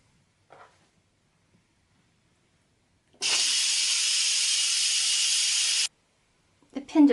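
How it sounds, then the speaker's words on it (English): An Instant Pot pressure cooker on quick release gives one loud, steady steam hiss lasting a few seconds, then stops abruptly, with brief small clicks before and after. "Now I'm going to do a quick release."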